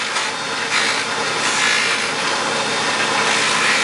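Edges of a 1911 magazine spring follower are polished lightly on a rotary tool spinning at about 2,600 RPM, making a steady, close, bright abrasive hiss with a gritty rubbing texture that never stops.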